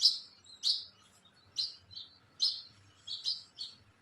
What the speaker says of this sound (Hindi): देखो बाहर चिड़िया भी बोल रही है